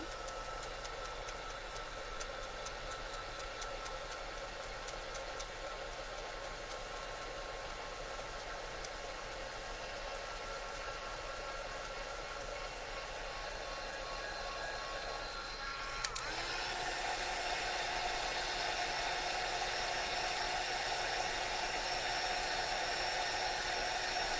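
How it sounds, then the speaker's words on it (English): A heat gun blows steadily while embossing a Christmas card, a continuous loud whooshing fan-and-air roar close by that shifts slightly in tone partway through and keeps running without a break. "We're going to take the heat gun."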